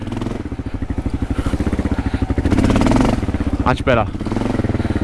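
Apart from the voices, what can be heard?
motorcycle on Bridgestone AX41 tyres, wheel spinning on gravel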